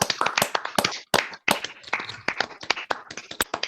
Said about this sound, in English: can I suggest to the rest of you that we make our usual noisy applause